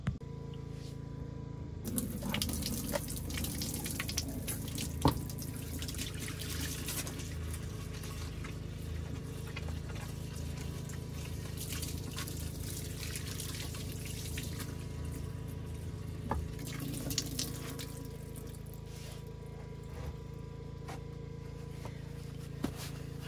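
Running tap water pours steadily while food is rinsed under it at an off-grid home, a continuous close splashing wash lasting throughout with a few small clatters and no talking.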